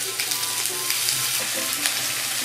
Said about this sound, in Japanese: 焼いてるより炒めてる音がしますね